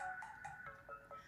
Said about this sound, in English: that was the phone ringing